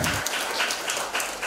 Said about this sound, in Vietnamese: Cả lớp chúng ta dành cho chúng ta một tràng pháo tay nào.